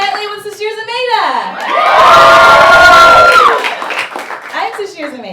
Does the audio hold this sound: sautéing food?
no